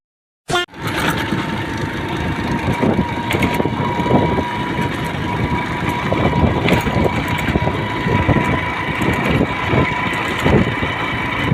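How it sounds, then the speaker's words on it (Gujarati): A motorbike engine starts abruptly and then idles steadily and loudly close by, a continuous rumble with small fluctuations and no talk. "આ છે આપણું બાઇક ચાલુ કરી"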